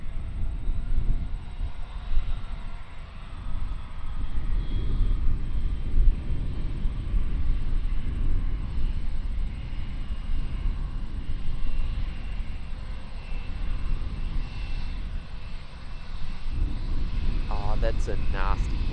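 Air New Zealand Boeing 777 departing Auckland Airport for Taipei, a steady low rumbling jet roar heard at a distance under someone talking.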